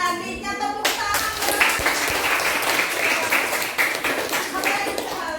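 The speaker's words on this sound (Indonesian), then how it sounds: "Tepuk tangan." Children clap together in a classroom, a brisk burst of many small hands that starts suddenly after a brief voice and holds steady and fairly loud, with sharper individual claps poking through.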